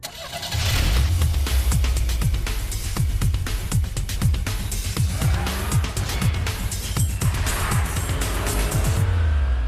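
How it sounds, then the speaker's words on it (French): A small race car roars past on a straight road, its loud buzzing engine climbing in pitch on approach and dropping lower as it pulls away, with gear changes and no talk. "À mesure que la voiture se rapproche, le son du moteur devient plus aigu. Et tandis qu'elle s'éloigne, il tombe dans les graves."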